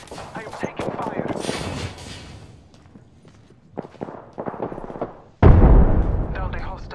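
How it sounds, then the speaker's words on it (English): Gunfire in Apex Legends on PS4 Pro, with loud rapid bursts of shots and sharp cracks, then a quieter stretch of scattered hits before a heavy, booming barrage near the end, mixed with game voice lines. "I am taking fire."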